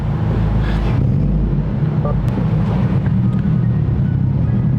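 Hyundai Elantra N driven on the road, a steady low engine and exhaust drone with road and wind rumble heard from inside the car, constant and fairly loud.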